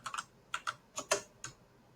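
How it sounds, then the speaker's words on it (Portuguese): Someone types a name on a computer keyboard, producing about a dozen quiet, close key clicks in small uneven clusters, with no talking. "E agora, se eu escrever Aline Goulart"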